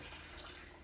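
A blended drink is strained, producing a brief, faint, even wash of pouring liquid with no voices.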